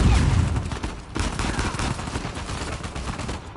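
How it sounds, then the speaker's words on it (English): Rapid video-game gunfire shooting through a wall, a dense continuous burst of loud shots lasting the whole moment. "They're shooting through this fucking wall?"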